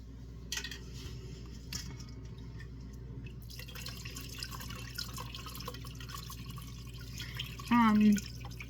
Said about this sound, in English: I got my strainer in a bowl with cheesecloth in it, and I'm just going to pour this in